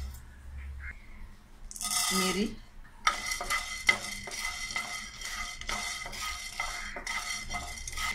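Poha being dry-roasted and stirred in a pan while preparing chakli bhajani flour for Diwali faraal, heard as quiet scraping and clinking strokes of a spoon against metal, repeated steadily with a brief rattle near the start.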